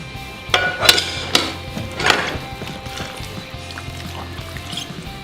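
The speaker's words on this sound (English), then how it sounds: "Going to give this a stir." Spoon clacking and scraping through sauce-coated pasta in a pot while making spinach artichoke mac and cheese; several sharp knocks and wet stirring sounds in the first seconds, then quieter mixing, close by.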